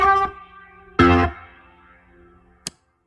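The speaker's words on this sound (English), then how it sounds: "You can get even a very nasty reverb sound by cranking the overdrive." Distorted, gritty organ notes from a Boss Organ Lunchbox with the overdrive cranked, ringing out into a long, dirty reverb tail that fades, ending with a short sharp click.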